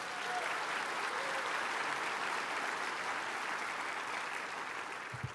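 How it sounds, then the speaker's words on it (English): A large audience at a state budget address gives sustained applause, a dense, even roar of clapping that holds steady at full strength throughout and fills the hall. "Let's give her a round of applause"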